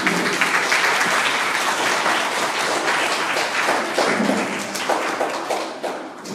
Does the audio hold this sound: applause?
yes